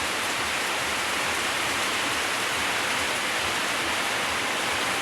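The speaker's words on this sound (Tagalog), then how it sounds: "Ang lakas ng ulan." Heavy rain suddenly pours down after a hot day in the Philippines in a dense, unbroken roar, loud and steady throughout with no breaks or voices.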